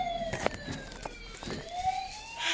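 A voice imitates a fire truck siren indoors, a wavering rising and falling wail repeated a couple of times, close and moderately loud with clattering in the background.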